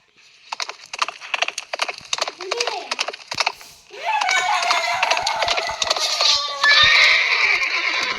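A horse whinnies in a Roblox video game amid clattering game sounds and keyboard-like tapping, with a voice talking over it.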